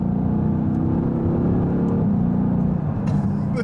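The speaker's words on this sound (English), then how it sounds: "Put it into Sport Plus to get the valves open. Oh wow. The valves literally do open." A Mercedes-AMG GT S in Sport Plus mode with its exhaust valves open gives a steady, loud, deep engine rumble from inside the car.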